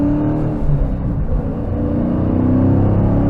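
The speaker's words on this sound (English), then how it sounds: "let's hear some V8 goodness." A Dodge Hemi V8 engine runs loud and steady, a deep rumbling drone with a slight swell of revving early on, holding a constant throaty roar throughout.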